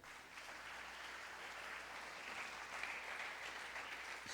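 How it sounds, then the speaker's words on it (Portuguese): A church congregation stands and applauds during a Portuguese-language worship service, a steady, distant wash of many hands clapping that holds evenly for several seconds, soft and diffuse, with a faint whoop rising midway. "Vamos ficar de pé e aplaudir ao Senhor."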